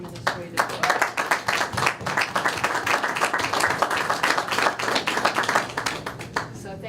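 A room of people at a preschool board meeting claps in a round of applause, a moderate scattering of distinct hand claps that stays lively throughout before tapering off.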